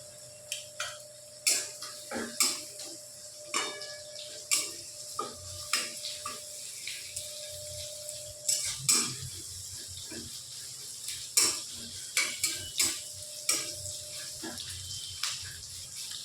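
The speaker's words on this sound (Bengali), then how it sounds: "হালকা করে নেড়ে নিয়ে এর মধ্যে দিয়ে দেব চেরা পেঁয়াজটা।" A spatula stirs soybean curry in a pan as sliced onion goes in, giving quiet, irregular clinks and scrapes of utensil on metal, spaced every second or so over a soft background.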